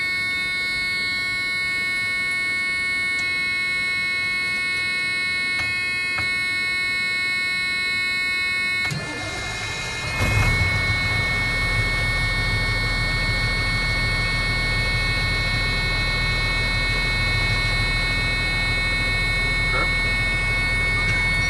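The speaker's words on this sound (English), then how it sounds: "Now I'm gonna go ahead and do a safety start to recover my air pressure in my primary and secondary air tanks" A Class A truck's engine starts partway through and settles into a steady, loud idle to build air pressure in the primary and secondary tanks, after a stretch of constant tonal hum.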